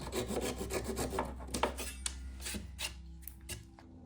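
Rhythmic rasping strokes sand a scrap-wood CD shelf, fast and steady at first, then slowing to a few spaced scrapes, close and fairly quiet.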